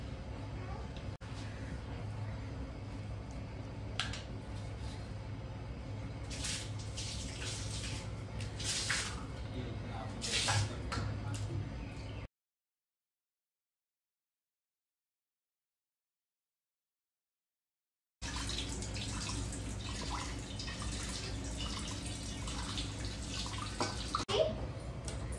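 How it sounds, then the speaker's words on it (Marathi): Potatoes being washed in water for French fries: splashing and sloshing in a kitchen with faint voices, broken by a silent gap in the middle before the rinsing resumes. "त्याच्यानंतर आपण पोटॅटो वॉश करूया"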